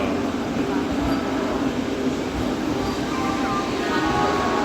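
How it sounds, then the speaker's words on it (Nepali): A train pulls into an Indian railway station, a loud steady rumble of rolling wagons with faint wheel clatter, continuous and close throughout. "ल हाम्रो रेल आयो।"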